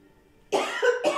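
A person coughs twice in a home kitchen, a sharp close cough after a short silence, then a second burst shortly after, loud and alone.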